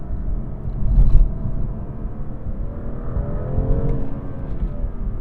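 A BMW M2 with an XForce Varex adjustable exhaust accelerates from inside the car, a deep, rough engine drone swelling and easing steadily with a brief louder surge near the start.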